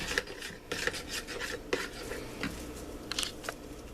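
Seasoning with garlic powder, black pepper and olive oil is mixed in a bowl, producing repeated soft scraping and rubbing strokes in an uneven rhythm, close and fairly quiet, with no talk.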